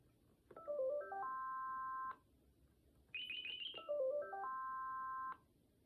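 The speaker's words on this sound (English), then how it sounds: "That actually had a melody and a bass line." A Panasonic KX-TG5100M cordless phone ringtone plays a short rising melody over a lower bass line, repeated twice with a higher chirping phrase between.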